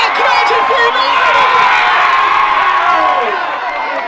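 A rap battle crowd roars and cheers loudly for the whole stretch, a dense wash of shouting and whooping that eases off slightly at the end.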